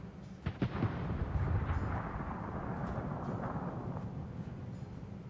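Warship guns boom in a naval battle game, with several heavy blasts up front that roll off into a long rumbling tail and a distant echo.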